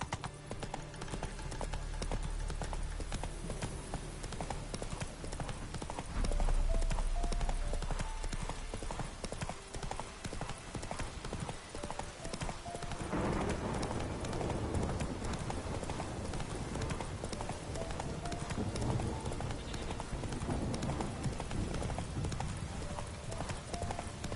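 Roach the horse gallops in The Witcher 3, hooves clip-clopping in a rapid, steady rhythm that stays close and moderately loud, with a brief heavier thump partway through and faint background ambience.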